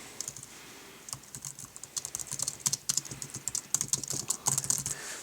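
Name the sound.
typing on an Apple keyboard connected to an iPad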